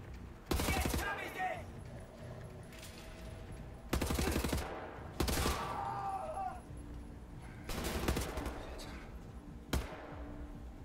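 Enemy blind-firing gunfire in the shooter game Wolfenstein: The New Order, loud bursts of rapid automatic shots in four or five separate volleys with short pauses between, a player's voice talking over the gaps.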